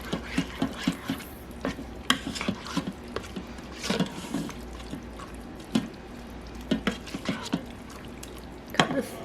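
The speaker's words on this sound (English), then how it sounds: "And then stir that." A mixture stirred in a pot, soft wet sloshing and irregular light taps of a spoon against the sides, fairly quiet and close with no talking.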